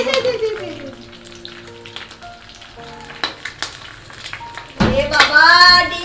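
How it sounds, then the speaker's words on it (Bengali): Eggs frying in a pan sizzle steadily through most of the stretch, rising to a louder burst near the end, while children and adults chatter nearby. "ডিম ভাজছো না"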